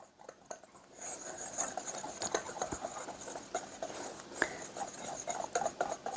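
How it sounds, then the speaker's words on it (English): Quick, light scraping and ticking of a whisk against a bowl as dry cookie dough ingredients and spices are mixed, an irregular patter with occasional sharper clinks. "Okay, so let's give this a whisk."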